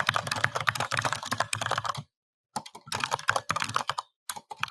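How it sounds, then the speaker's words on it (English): Rapid keyboard typing clatters close by in bursts of quick keystrokes, pausing briefly before resuming. "I can hear you typing."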